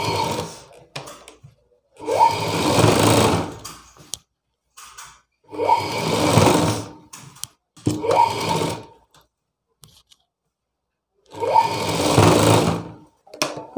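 A sewing machine stitches a blouse seam, joining a sleeve, in four loud, whirring bursts of a few seconds each, separated by short silent pauses.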